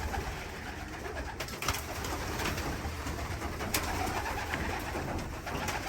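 Many racing pigeons coo together in an enclosed loft, a layered, continuous murmur of soft throaty calls with occasional wing flutters and shuffles.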